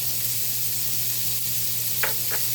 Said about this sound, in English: And I'm going to saute that for a minute.